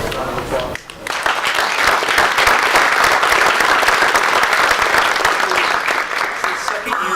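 A loud, sustained burst of applause from a large crowd, dense clapping that swells after a brief dip and carries on steadily, with some cheering mixed in.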